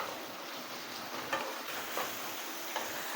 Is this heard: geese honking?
no